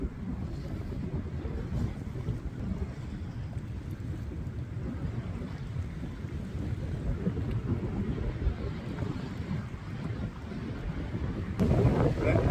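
Strong wind buffets a small fishing boat out on a lake, a steady broadband roar dominating low and mid tones throughout, rising slightly near the end, with no voices.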